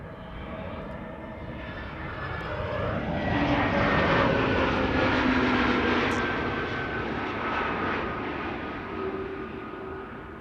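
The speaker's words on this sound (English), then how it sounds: "KLM flight 1004 arriving from London Heathrow." A KLM airliner on arrival at Amsterdam Schiphol Airport, inbound from London Heathrow, its jet roar swelling after a few seconds into a steady, fairly loud rush that stays broad and full, then eases slightly near the end, with no talk.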